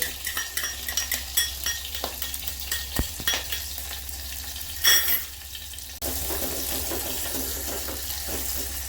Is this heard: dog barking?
no